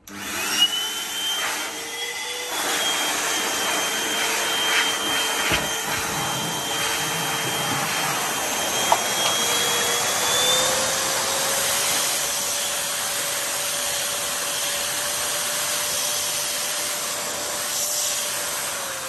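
A small Metrovac pet grooming blower dryer runs with a steady whooshing roar and a high whine, its pitch stepping up through low, medium and high speeds, with a few clicks.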